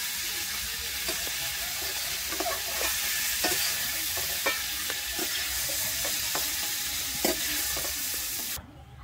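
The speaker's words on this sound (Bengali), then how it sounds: "আমি ফুলকপিটাকে কিন্তু লাল করে ভেজে নেব।" Cauliflower pieces frying in mustard oil for a Bengali fish curry give a steady, close sizzle with a bright hiss. Soft clinks of stirring come through now and then, and the sizzle drops away near the end.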